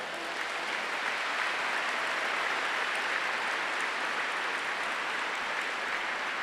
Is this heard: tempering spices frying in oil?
no